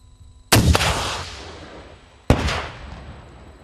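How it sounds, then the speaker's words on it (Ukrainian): Two sharp, very loud blasts about two seconds apart, each with a long rumbling decay, from an RPG shoulder-fired grenade launcher firing outdoors during border guard training. "починається найгучніший етап навчання стрільби із РПГ. Постріл!"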